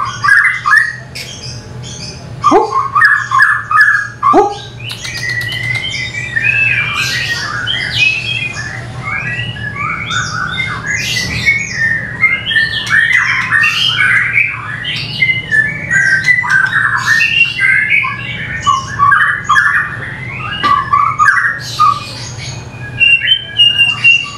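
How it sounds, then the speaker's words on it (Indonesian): A young forest-caught cumbu bird calls loudly and close for about 24 seconds, giving harsh, rough squawks mixed with whistled chirps in rapid, nearly continuous bursts. "Tuh namanya burung cumbu teman-teman ya."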